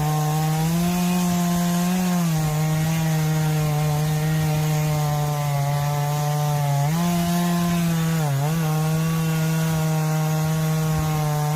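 A Stihl chainsaw cuts into a large tree, its loud engine holding a steady, buzzing drone with brief pitch dips as the chain bites into the wood.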